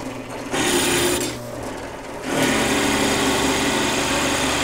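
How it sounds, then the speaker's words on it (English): Cheap drill boring through a hardwood garden gnome, a loud steady motor whine that dips briefly mid-way and then resumes at full strength, close and continuous with no talk. "we'll get this drilled through"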